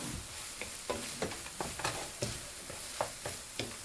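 A spoon stirs vegetable oats upma with lemon juice in a pan, scraping and tapping in repeated close strokes over a soft sizzle.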